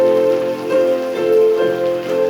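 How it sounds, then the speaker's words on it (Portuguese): Rain falls steadily on surfaces outdoors, a soft continuous patter mixed under sustained, held musical tones. "Olha a chuva."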